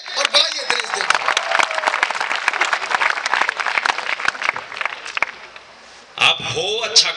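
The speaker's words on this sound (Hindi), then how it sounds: "एक बार सब मिलकर तालियां बजाइए और बुलाइए दिनेश देवखरिया।" A crowd at a Hindi kavi sammelan, a poetry recital event, breaks into dense, loud, sustained applause to welcome the poet Dinesh Devgharya. The clapping dips briefly near the end, then a voice and renewed clapping return.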